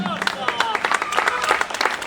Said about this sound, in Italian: Grandi gli applausi